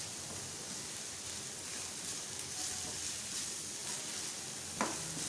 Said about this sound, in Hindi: आपने इनकी भुनाई नहीं करनी, बस सिर्फ उसको सौते करना है।